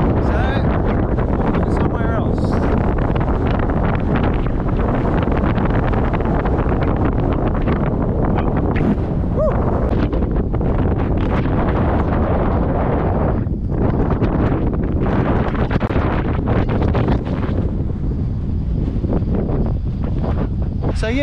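Gale-force gusty wind roars across the microphone nonstop at Bombo Beach, Australia, buffeting loudly throughout, with surf faintly underneath.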